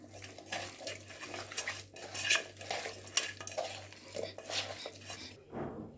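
Chicken pieces being mixed with turmeric in a metal pot, with steady stirring, scraping and clinking of a utensil against the pot, close and continuous, with no talking.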